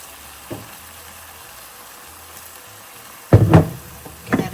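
Balsamic vinegar poured onto sizzling caramelized onions, with a faint low sizzle that suddenly bursts into a loud, close hiss and crackle, then flares again briefly.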